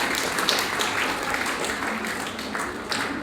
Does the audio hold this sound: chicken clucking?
no